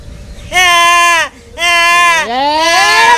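A person imitates a goat, giving loud, close, nasal bleats in three quavering bursts with short gaps between them.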